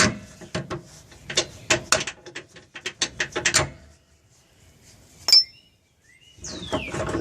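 A ratchet clicks rapidly and close up while spinning the rear shock bolt off a 2001 Dodge Ram 1500, a fast run of sharp metallic clicks. A metal clink follows after a brief pause, then a scraping sound. No one talks.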